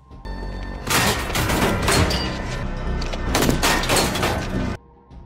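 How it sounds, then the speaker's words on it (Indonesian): A film shootout in a secret intelligence facility, with rapid bursts of gunfire in two dense volleys separated by a short gap and then cut off abruptly, loud and close with no speech. "Tiba-tiba mereka melihat Amanda dan baku tembak pun terjadi."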